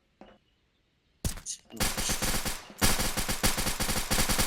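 Rapid bursts of gunfire from a gun being shot outdoors, loud and close, firing in quick repeated volleys after a brief click and pause.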